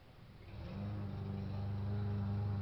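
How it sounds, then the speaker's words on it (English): A lawnmower running outside gives a steady, mid-pitched motor drone that swells in loudness after the first moment, then holds a constant rumbling hum, with no voices over it. "that's my lawnmower man that you hear"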